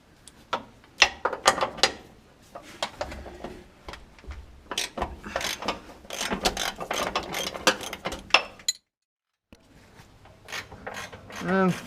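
Ratcheting wrench clicks and metallic clanks while bolts are loosened on a first-generation Dodge crew cab truck during engine removal, a series of sharp close taps and rattles with a short silent gap near the end.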